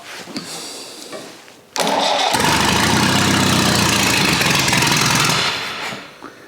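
An old, rusty engine started with the choke on in cold weather around 2 °C: brief cranking, then it catches abruptly and runs loud and rough at a steady idle for a few seconds before quieting down.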